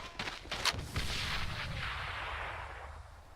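Grenade blast in the online shooter AVA during a competitive match, a booming explosion with sharp gunshot cracks at the start and a long rumbling decay, moderately loud.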